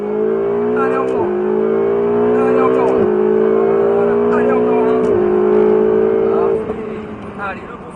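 A Ferrari 488 GTB screams up through the gears on the Nogaro race track, loud and close, with the engine climbing in pitch and dropping at each of several quick shifts before easing off at the end.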